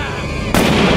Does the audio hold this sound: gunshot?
yes